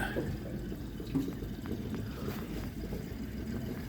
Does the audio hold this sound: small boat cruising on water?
yes